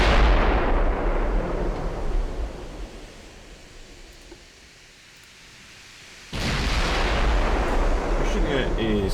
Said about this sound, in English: I'm just wasting ammunition firing the rear turret at the moment.